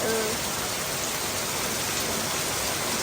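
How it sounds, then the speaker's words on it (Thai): Steady rain in Vientiane hissing as a dense, even wash of noise, continuous throughout with no distinct drops standing out. "ฝนตกนี่แหละ"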